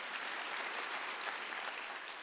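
Congregation applauding during a Korean church Wednesday worship service, a steady, dense wash of clapping hands filling the whole stretch without any break.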